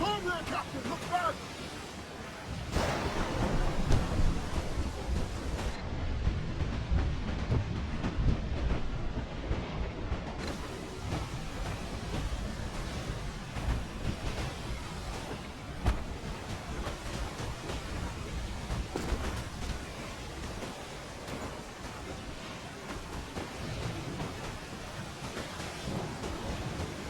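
A thunderstorm rages at sea in Assassin's Creed IV: Black Flag, a dense continuous wall of heavy rain, wind and rumbling thunder, with a sharp crack partway through, under shouted voices.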